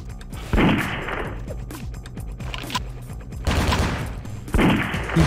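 Shotgun blasts in Vampire: The Masquerade - Bloodlines come as three loud, booming shots spaced about a second or more apart, each with a sharp burst that fades into a rumbling tail, over a background of game noise.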